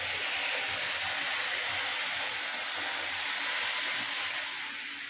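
Warm milk poured slowly into a hot pan of fried vermicelli (simoi) gives off a loud, continuous, close-up sizzling hiss that stays even throughout, with no talk.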